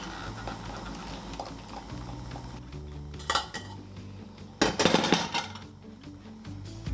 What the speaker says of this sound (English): we need to drain the quinoa.